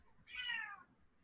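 A pet cat gives a single drawn-out meow lasting about half a second, fairly faint and somewhat distant, with no talking over it.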